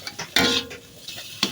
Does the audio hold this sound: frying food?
yes